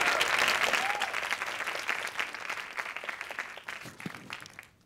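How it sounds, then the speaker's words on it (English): An audience claps for sponsors and volunteers at a motivational event, steady moderate applause that gradually thins out and tapers off over a few seconds. "give a round of applause to our sponsors and volunteers"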